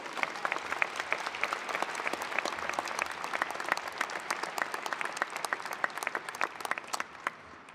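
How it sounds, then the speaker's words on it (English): A graduation ceremony crowd at RMIT University claps steadily and enthusiastically, dense sustained applause filling the space without pause for several seconds. "Let's give all of them a huge round of applause."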